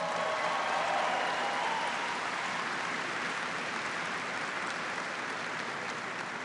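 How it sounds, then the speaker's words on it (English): A crowd of troops and civilians at a military base in Afghanistan applauds in a dense, continuous wash of clapping that stays steady and fairly distant, with no distinct individual claps standing out. "Give them a big round of applause."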